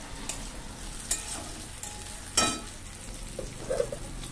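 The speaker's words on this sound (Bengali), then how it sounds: "পেঁয়াজটা পুরো লাল লাল ভাজা হয়ে গেছে বন্ধুরা" Onions frying until reddish-brown in a pan, a continuous close sizzle with stirring scrapes and a few sharper clatters of the spoon, no talk.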